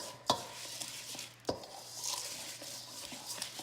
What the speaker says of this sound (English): now we're just stirring up the butter, the seasonings, and the rice before we add the meat